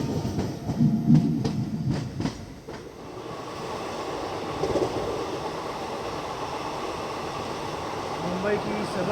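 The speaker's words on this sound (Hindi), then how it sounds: "तो मात्र 2 मिनट के हॉल्ट के बाद हम निकल चुके थे कल्याण जंक्शन।" The 11002 Balharshah–CSMT Mumbai Nandigram Express rolling out of Kalyan Junction, heard on board with rhythmic wheel clicks early on, then a steady rumbling hum as it gathers pace, with a voice talking over it.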